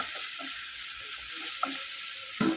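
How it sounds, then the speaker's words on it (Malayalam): Sliced onions sauté in oil in a covered pan for a Kerala drumstick stir-fry, giving a constant bright hiss of sizzling with a few soft pops, then a louder clatter near the end. "സവോളയൊക്കെ ഒരുവിധം വഴന്ന് വരാൻ തുടങ്ങിയിട്ടുണ്ട്"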